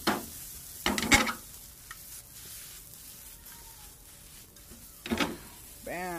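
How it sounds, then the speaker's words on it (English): A quesadilla is flipped in a frying pan and sizzles with a steady low hiss, marked by a couple of louder clattering bursts as it turns over. Near the end a short rising and falling whistle-like tone sounds. "Give it a flip."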